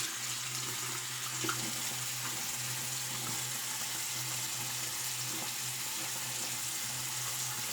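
Cold tap water runs steadily into a sink during a wet shave, a constant hissing stream at moderate distance with a low hum underneath and no talking.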